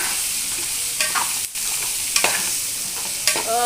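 Brinjal and potato pieces fry in a pan dusted with chili powder, a loud close hiss punctuated by several ladle scrapes and stirs, with nobody talking.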